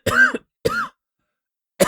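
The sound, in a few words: cough voiced by audiobook reader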